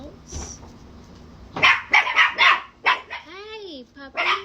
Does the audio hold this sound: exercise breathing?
no